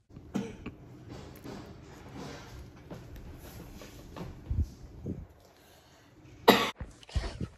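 A person coughs repeatedly at close range, with harsh bursts and throat clearing scattered through a quiet indoor room, ending in a louder sharp cough or two.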